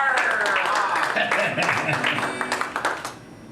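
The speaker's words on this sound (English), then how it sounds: "A big round of applause for Minstrel Michael." Audience applause for a costumed pirate-themed minstrel performer, steady clapping from a room of listeners that fades out over a few seconds, with a voice speaking over it.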